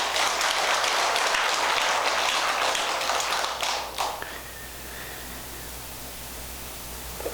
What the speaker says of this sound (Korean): 박수를 한번 보내주세요.